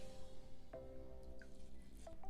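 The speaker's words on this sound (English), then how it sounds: "we're gonna just rinse it off in this bowl of water that I have right here" A charged Flawless cleanse and massage facial brush is rinsed in a bowl of water. A few faint drips and small splashes sound over a low, steady hum, quiet and close.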